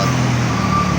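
A heavy Hino truck engine rumbles steadily at close range on a highway, a low continuous drone with road noise and no pauses.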